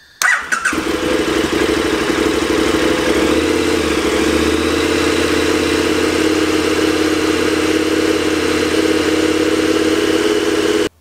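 A motorcycle engine fires up and settles into a steady held rev around 2,000 to 2,500 RPM, a loud, even drone that runs unbroken for about ten seconds.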